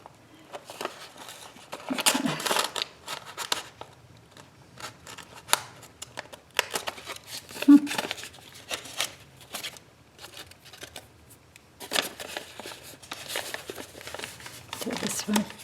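Scissors snip through a gusseted paper gift bag in short bursts of crisp cutting and paper rustle, close and fairly quiet, separated by pauses while a person talks.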